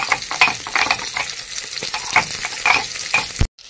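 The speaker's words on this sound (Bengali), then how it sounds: "মাছটা ভাজা হয়ে গেছে, মাছটা উঠিয়ে দিলাম।" Fish frying in oil in a karahi on a clay stove, a continuous close sizzle broken by repeated scraping and stirring strokes of a spatula.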